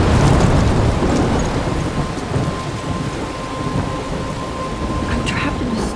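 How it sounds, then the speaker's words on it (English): A thunderstorm rages in the video game Life is Strange: steady, loud rain hisses throughout, with low thunder rumbling beneath it. "I'm trapped in a storm?"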